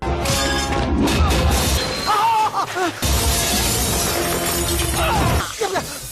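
Loud glass shattering and crashing in a Telugu action movie fight scene, over a busy soundtrack of music, with shouting voices in a chaotic scene.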